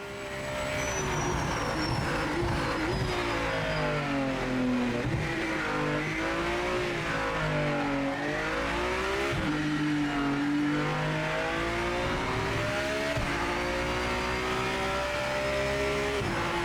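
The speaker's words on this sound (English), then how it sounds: "at least this car sounds okay" A race car engine in a video game roars steadily throughout, pitch rising and falling through gear shifts as it accelerates and brakes, loud and continuous with no talking.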